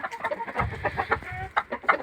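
Lohmann Brown hens cluck in quick, overlapping bursts close by, a busy chorus of short throaty calls from a henhouse flock.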